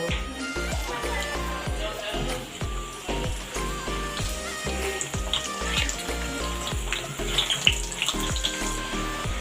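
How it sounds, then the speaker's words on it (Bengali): Aloo parathas frying in hot oil in a kadai, a steady close hiss and crackle with rhythmic scraping and thumps of the pan running throughout. "তেল গরম হয়ে গেছে, পরোটাগুলো ভেজে নেব।"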